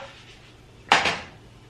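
Crepe flipped in a pan with a spatula, one brief clattering scrape and knock of metal against the pan, fairly close, amid quiet kitchen background.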